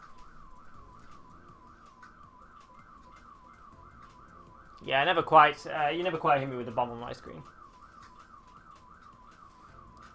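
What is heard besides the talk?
car alarm sounding outside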